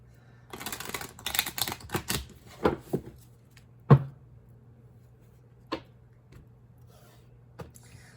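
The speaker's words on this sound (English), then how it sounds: "Let me just do a quick shuffle." Tarot cards riffle and shuffle in a quick flurry of crisp snaps, then a few scattered taps as the deck settles; no one speaks.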